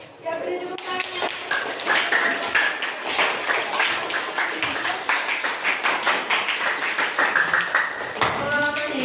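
An audience claps in a rhythmic, somewhat uneven wave of hand claps, fairly close and moderately loud, with a brief pause near the start and murmuring voices mixed in underneath.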